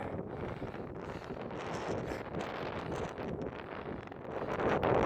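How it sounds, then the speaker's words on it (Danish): Wind buffets the microphone on a 2500-metre mountain summit in the White Mountains of Crete, a continuous roaring rush that swells louder toward the end, with no voices. "Støj her i vinden"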